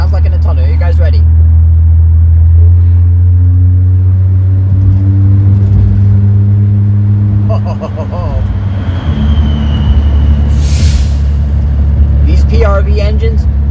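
A 1990 Eagle Premier's PRV engine revs inside a tunnel, the deep droning exhaust rising and settling through several loud, echoing revs, with a voice speaking briefly at the start.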